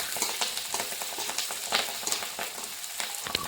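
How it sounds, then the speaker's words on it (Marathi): Cooked rice being sautéed with curry leaves in a pan (kadhai), giving a soft steady sizzle broken by repeated scraping and stirring clicks, moderately quiet and close, with no talking. "अशा प्रकारे भात परतला गेला आहे"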